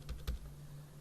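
A few quick, soft clicks from a computer keyboard as numbers are typed, faint and close in a quiet room.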